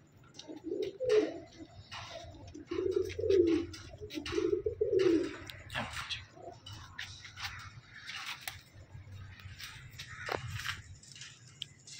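Pigeons cooing in a row of soft, throaty calls, fairly close, with a few quiet clicks and rustles between them and no talk.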